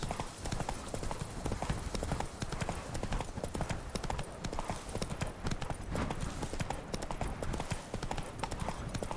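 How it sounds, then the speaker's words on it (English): The horse Roach trots in The Witcher video game, a steady fast clip-clop of hooves that runs throughout, close and clear, with faint game ambience underneath. "Whoa there, Roach."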